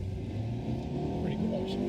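A Skoda Superb 4x4 accelerates, its engine rising in a steady drone with a climbing pitch toward the end, while people talk over it.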